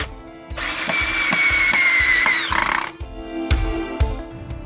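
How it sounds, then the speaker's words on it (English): A power drill whines for about two seconds as it pre-drills holes in scrap wood for a garage workstation frame, then follows with several short, sharp bursts, loud and close. "he got started pre-drilling holes to avoid splitting the wood when driving in the screws"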